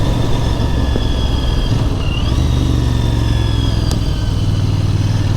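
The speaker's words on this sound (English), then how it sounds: "I love coming down through the gears on this bike. It gives a nice little pop from the exhaust." Royal Enfield Bear 650 motorcycle engine running steadily on the road, a loud, even exhaust drone with a faint whine above it and small changes in pitch as it shifts down through the gears, heard alone without talk.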